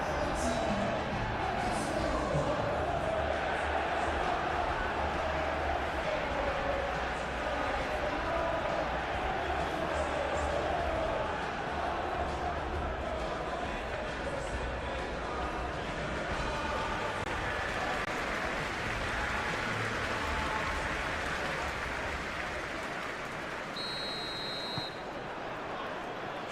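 A stadium crowd in PES 21 at a Manchester United vs Aston Villa Premier League match keeps up a constant, distant roar and murmur, with a commentator talking over it throughout.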